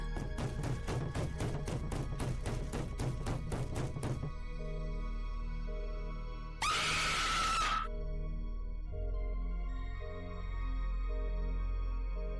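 A short, shrill scream bursts out for about a second over a constant droning, rhythmic electronic background.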